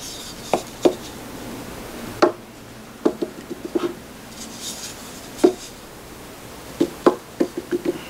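A wooden limb bowl rocks and rolls over on a hard surface, giving scattered knocks and clatters, some in quick clusters, close and moderately loud with no talking.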